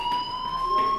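A fire alarm rings inside the Life Is Strange video game, a steady, piercing electronic tone held without a break, loud and unaccompanied by speech.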